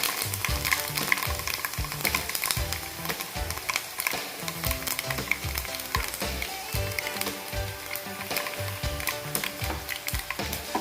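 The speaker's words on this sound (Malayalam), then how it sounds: "ഒരു പാത്രം അടുപ്പത്ത് വെച്ച് അതിലേക്ക് നമുക്ക് കുറച്ച് എണ്ണ ഒഴിച്ചു കൊടുക്കാം നമുക്ക് കുറച്ച് അരി വറുത്തെടുക്കാം" Rice frying in hot oil in a pan while cooking a Kerala-style plantain upperi stir-fry: a steady, close crackling sizzle runs throughout, with repeated scraping and stirring strokes and no talking.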